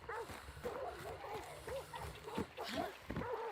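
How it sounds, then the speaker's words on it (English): Dogs bark at a compound in the video game Hunt: Showdown: repeated, fairly close barks in a quick, uneven rhythm, mixed with talking. "Dogs popping off here at Darrow"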